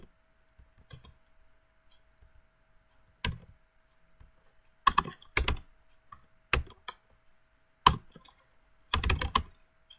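Python code being typed on a computer keyboard: scattered single key clicks, then several quick bursts of close, crisp keystrokes with pauses between them and no talking.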